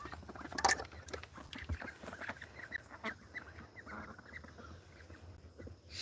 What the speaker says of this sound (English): We're waking up the ducks for the morning.